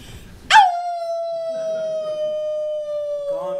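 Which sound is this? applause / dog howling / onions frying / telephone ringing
dog howling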